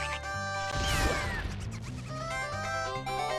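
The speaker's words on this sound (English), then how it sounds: "Okay, I think we need to blow this up." In the video game Majora's Mask something gets blown up, a sharp crashing blast bursting out mid-clip over ongoing game music, then fading back to the tune.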